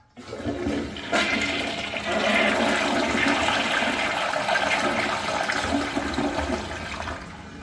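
A 1.6-gallon toilet with a long flush roars steadily for several seconds, loud and close, then tapers slightly at the end with no voices over it.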